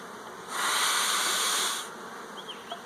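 Honey bees in a hive around the nurse bees on the brood frames, a dense buzzing hiss that swells loud and close for about a second and a half, then drops back to a faint background hum with a few soft clicks.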